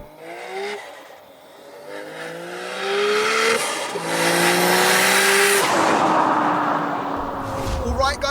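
800 BHP Nissan R34 GTR with a 2.8 L stroker engine revs hard nearby, rising through several gear pulls with sharp pops between shifts, loud and roaring, with voices talking over it.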